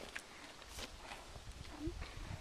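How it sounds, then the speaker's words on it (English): Horses run past on a mountain trail below tall peaks, hooves giving faint, scattered clip-clop thuds at a distance against wind and outdoor ambience, with murmured talk in the background. "The horses are running past the"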